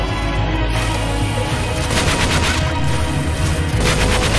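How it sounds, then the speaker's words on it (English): Light machine gun fire in the Roblox video game, a dense rattling barrage of rapid gunshots and booms running continuously and loudly for several seconds. "Keep using your light machine guns."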